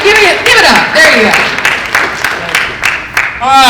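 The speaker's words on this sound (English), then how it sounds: "now for a round of applause for Herff Jones." Students at a senior class meeting give a thin, scattered round of applause, sparse claps running under someone talking into a microphone.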